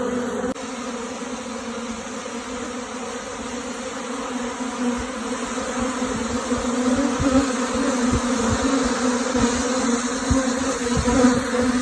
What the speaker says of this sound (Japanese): 再びたくさんの蜂が出てきました。